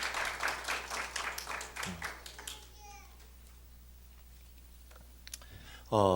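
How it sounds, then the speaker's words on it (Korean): A short burst of scattered applause in a church service in the opening seconds fades into quiet room hum, with a brief rustle at the end. "우리 박수로 한번 격려하겠습니다"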